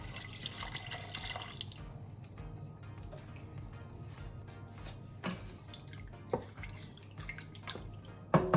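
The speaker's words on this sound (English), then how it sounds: "I'll just add some water to this." Tap water runs and splashes into a cooking pot holding beef livers for a Nigerian beef stew, a soft steady trickle with occasional drips and knocks of the pot, fairly quiet and close.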